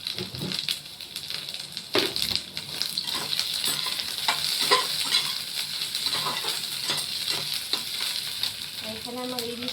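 Food frying in oil in a pan, a steady crackling sizzle with scattered clinks and scrapes of stirring, close and continuous.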